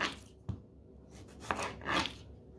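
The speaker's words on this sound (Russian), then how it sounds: "И начинаем резать помидоры." A knife slices through fresh tomatoes in a few quiet, separate strokes, each a short soft cut against the board, close by and with no talk.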